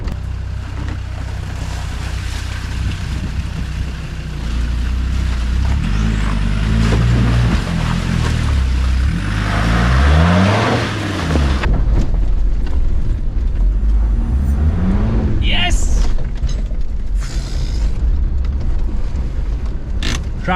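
A 4x4 off-road vehicle crawls through snow on a Welsh mountain track in low range second gear, its engine a steady, loud, close drone that shifts in pitch as it works for traction, with scrapes and knocks toward the end.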